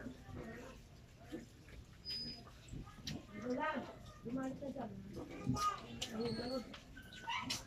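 Hershey, a pet dog, makes soft whimpers and small yips while a person talks nearby, the dog sounds faint and intermittent beneath the voice in an indoor room.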